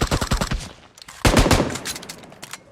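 Gunfire from a zombie-shooting video game comes in loud, rapid automatic bursts, a fast stutter of shots, then a short pause and a second dense volley.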